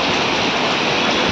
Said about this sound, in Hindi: तकड़ी बारिश होने लगी